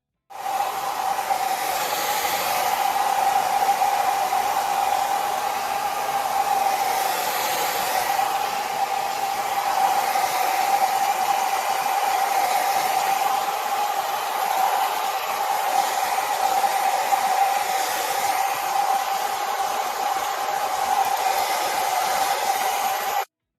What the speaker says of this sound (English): and then my blow dryer. I'll blow dry this for like 3 minutes tops.